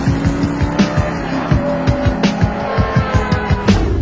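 A Dodge Viper SRT10 engine drones loudly and steadily while driving, with wind roar and rhythmic thumping pulses running through the whole stretch and no voices over it.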